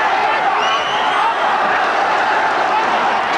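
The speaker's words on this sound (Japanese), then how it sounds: "1万観衆大歓声。" A crowd of ten thousand at a boxing match roars in a steady, loud wall of cheering and shouting, sustained throughout with no break.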